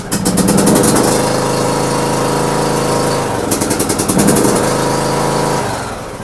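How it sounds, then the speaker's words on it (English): A small gasoline engine with a full tank runs steadily after starting, its rough, buzzy idle loud and close, wavering briefly midway before settling again, with no talk over it. "Figures I would turn the choke off and it would start right up."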